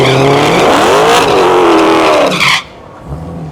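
A V8 car engine rises in a loud, close roar of exhaust revving with tire squeal, then cuts off sharply and leaves quiet low rumble.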